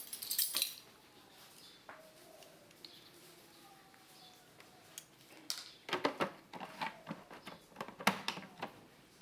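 Minced fish being mixed by hand with Balinese bumbu genep spice paste and salt in a bowl, soft quiet squelches and sticky slaps that turn into a cluster of sharper taps and knocks toward the end.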